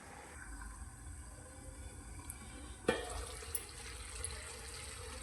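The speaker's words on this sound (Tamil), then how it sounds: "நம்ம இப்போ இந்த ரைஸை வடித்து வச்சுக்கலாம்" Water from partly cooked rice for chicken white biryani drains out of a pot in a steady, faint splashing pour, with a sharper splash partway through and no talking.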